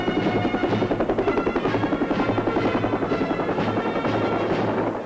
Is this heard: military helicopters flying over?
yes